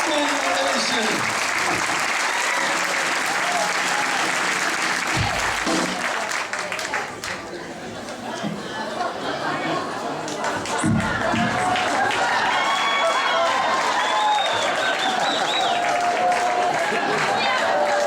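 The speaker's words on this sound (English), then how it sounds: "Standing ovation." A concert audience at an Ides of March acoustic show in Western Springs, Illinois, gives a standing ovation: loud, sustained applause and cheering from a large crowd, with shouts rising over the clapping.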